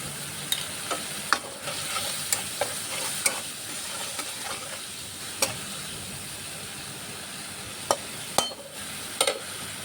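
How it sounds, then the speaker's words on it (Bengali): Spices stir-frying in a pan for a Bengali cabbage greens dish, a steady close sizzle with repeated scraping stirs of the spoon throughout. "মশলা কষানো হয়ে গেছে"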